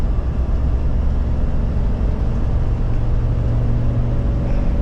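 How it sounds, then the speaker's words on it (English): Chevrolet Vortec V8 in a 2011 Coachmen Freelander 210 mini Class C motorhome cruising at highway speed, a steady loud low engine drone and road rumble filling the cabin without a break. "Definitely got that Vortec sound to it, if you can hear it."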